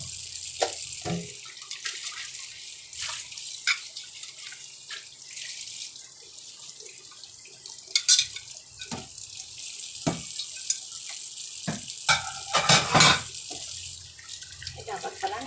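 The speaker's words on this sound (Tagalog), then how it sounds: "Naghuhugas ng pinggan, kawali, kaldero." Running tap water spills into a sink while dishes, a frying pan and cooking pots are washed, with intermittent splashing, clinks and scraping bursts over the steady flow at close range.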